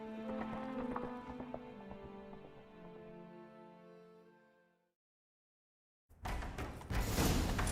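Horse hooves clip-clop in The Witcher 3 video game, a steady run of dense, loud hoofbeats with music before a sudden drop to silence, then a harsh loud burst of action noise.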